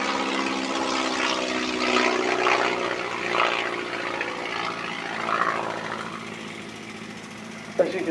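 A propeller aerobatic trainer flies past at an air show, its engine drone steady and fairly distant, swelling and fading slightly as it manoeuvres, with a brief knock near the end.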